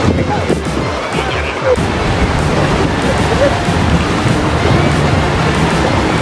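Strong ocean surf breaks against cliffs along a coastal road, a steady loud roar mixed with wind buffeting the microphone, continuous throughout without clear pauses.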